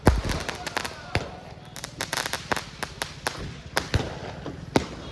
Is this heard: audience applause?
no